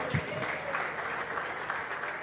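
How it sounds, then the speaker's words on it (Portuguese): A church congregation claps steadily and continuously throughout, a dense patter of applause with no pauses. "Vamos receber a nossa irmã Gislane com palmas bem alegres para o Senhor."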